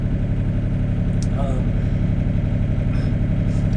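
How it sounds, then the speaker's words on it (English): A Sany SY35U mini excavator engine runs in a loud steady idle with a constant low drone, and a voice cuts in briefly over the engine. "It's going to go to what I have the throttle set to, and it's going to idle back down if you've got an auto idle mode"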